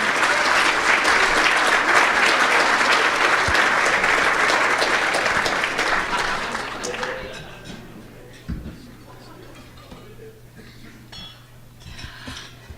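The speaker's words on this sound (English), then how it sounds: "How about one more round of applause for Petty Officer Reagan?" Loud applause from a crowd fills the first several seconds, then fades out, leaving a quiet room with a few faint scattered sounds.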